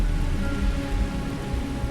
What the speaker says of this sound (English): It'd be nice if it would stop raining.